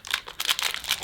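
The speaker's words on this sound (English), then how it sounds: "But first, I'm going to fit a new air freshener. Just unwrap it." Crinkly plastic wrapping being pulled off a new air freshener for a Gtech or Bissell AirRam vacuum cleaner, a close, fairly quiet run of crackling bursts over about a second.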